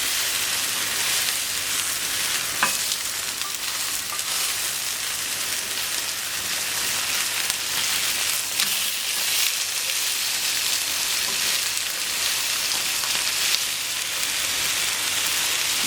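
Sole fillet sizzling on a hot plancha griddle, a steady, even crackling hiss of frying that runs unbroken and fairly close throughout, with a couple of brief sharper pops and no voices.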